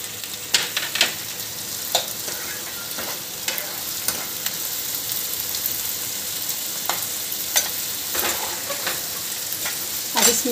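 Tomatoes and onions frying together in a pan for pav bhaji, a continuous bright sizzle broken by frequent scraping stirs of a spoon, close and fairly loud with no talk.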